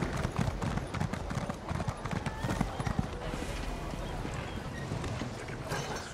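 Horse galloping in Elder Scrolls Online, a fast steady clip-clop of hooves close by, running continuously under faint game ambience.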